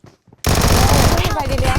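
In PUBG Mobile, a sudden loud, dense burst of automatic gunfire erupts after a brief quiet with faint voices, then keeps hammering rapidly to the end.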